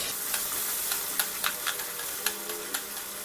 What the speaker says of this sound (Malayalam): ഈ ഇഞ്ചിയൊക്കെ നന്നായിട്ട് മൂത്ത് വരട്ടെ കേട്ടോ, അതുവരെ നമുക്ക് വഴറ്റി കൊടുക്കാം.